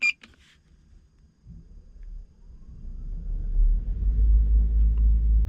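A beep sounds, then the electric refrigeration unit of a Kia Bongo 3 EV refrigerated truck starts with a low mechanical rumble that builds steadily into a loud, continuous humming fan drone.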